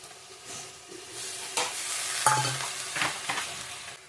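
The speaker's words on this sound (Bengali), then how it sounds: "মশলাটা কষানো হলেই তো হয়ে যাবে" A mustard and tomato spice paste for rohu fish curry is sautéed in a pan, a soft sizzle with several distinct scraping stir strokes, close and without speech.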